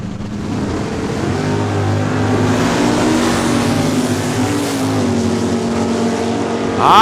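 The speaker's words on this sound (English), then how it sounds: "This is a drag race. Clean start at the line, top of the quarter mile." Drag racing cars launch off the start line at a quarter-mile raceway in Saskatoon, their engines a loud sustained roar that builds slightly and holds, heard alone without talk.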